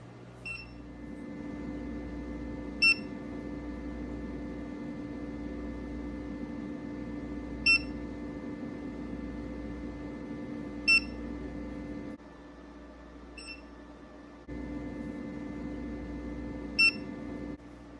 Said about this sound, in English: the beeping should stop